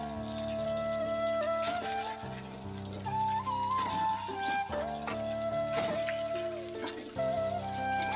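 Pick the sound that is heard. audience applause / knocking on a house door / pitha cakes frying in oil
pitha cakes frying in oil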